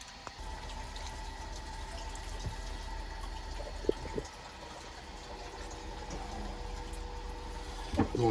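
Water drains into a sailboat's bilge with a faint, steady trickle and occasional drips over a low background hum. A small knock comes near the end.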